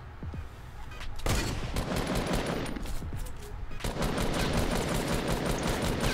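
Rapid bursts of gunfire ring out in the video game Fortnite, a dense volley of sharp shots that starts after a brief quieter stretch and then continues loudly almost without pause.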